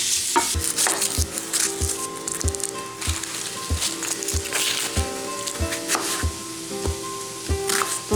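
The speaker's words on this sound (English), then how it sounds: "So we've got the Instant Pot on the sauté setting. And I just cut this bacon up in here." Cut-up bacon sizzles in an Instant Pot on the sauté setting, a steady crackling fry punctuated by regular knocks from chopping or stirring nearby, with no talk.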